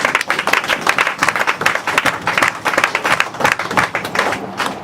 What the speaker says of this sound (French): Acclamons pour la parole du Seigneur.